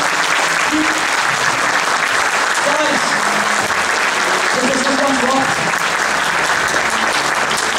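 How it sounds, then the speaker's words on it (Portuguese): Steady applause fills a conference hall as an audience of accountants claps in honour of a professor, a dense unbroken wash of hand claps lasting throughout, with a few voices murmuring underneath. "Eu queria dar uma salva de palmas ao final"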